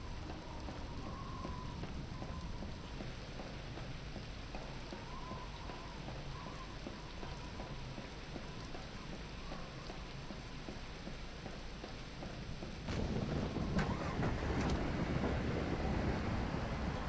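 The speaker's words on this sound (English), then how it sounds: "Okay, that was a lightning strike." Rain falls steadily in the Voices of the Void video game, a dense even hiss throughout, until a sudden louder burst of thunder from a lightning strike near the end raises the noise.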